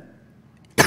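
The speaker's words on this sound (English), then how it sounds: "I just need to cough." A single sharp cough from a preacher during a sermon bursts out loud and close at the very end, after a near-silent stretch with a faint hum.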